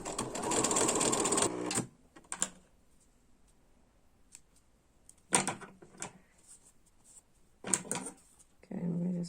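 A sewing machine stitches fabric for hanging car decor in several short, loud bursts of rapid whirring, separated by quiet pauses with small clicks and handling noises.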